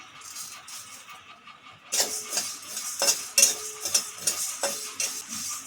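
Coriander, cumin, dried chillies and fennel dry-roast in a pan, quiet at first, then a spoon scrapes and rattles the seeds in irregular bursts against the metal, close and crisp.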